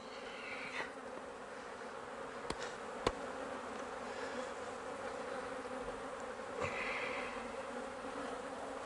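Honeybees buzzing at an open hive in a home apiary being readied for winter, a continuous close drone with a couple of brief clicks and a louder bee passing near the end.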